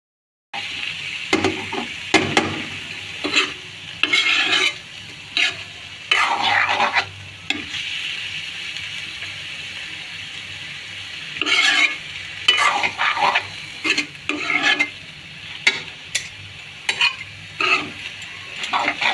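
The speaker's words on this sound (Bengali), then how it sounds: "এভাবেই নাড়াচাড়া করে দিতে হবে।" Malondi fish chochchori being stirred in a pan, with repeated scraping strokes of a spatula over a steady frying sizzle, the stirring coming in irregular bursts with short pauses between them.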